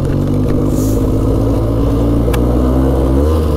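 A 2000 Polaris Xplorer 400 4x4 ATV engine idles steadily up close, a loud, even mechanical drone with a faint rise in revs near the end.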